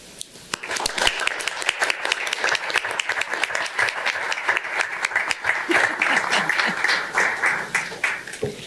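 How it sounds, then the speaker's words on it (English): An audience at a city council meeting honoring the youth council gives sustained applause, crisp overlapping claps lasting around eight seconds with a faint murmur of voices beneath. "Please join me in offering a round of applause for the accomplishments of the Layton City Youth Council"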